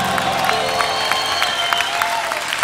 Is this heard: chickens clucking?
no